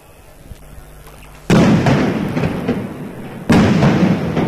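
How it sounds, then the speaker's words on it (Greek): Two loud, close blasts from firecrackers or similar explosives go off a couple of seconds apart at a November strike rally in Athens, each booming burst followed by a lingering rumble over crowd noise. "Βλέπουμε αυτή τη στιγμή κάποιες εκρήξεις γίνονται στην όθωνος."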